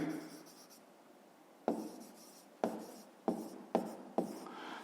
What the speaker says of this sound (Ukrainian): то ми пишемо цифрою 3